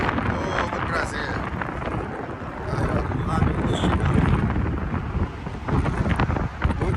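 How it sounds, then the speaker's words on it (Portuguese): Strong wind sweeps across North Avenue Beach in Chicago on a late afternoon, buffeting the microphone with a loud, continuous roar that rises and falls in gusts, with faint voices mixed in. "Muito vento, hein?"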